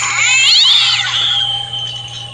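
A house cat meows loudly and close, one drawn-out rising and falling cry followed by a fading tail, with no talking.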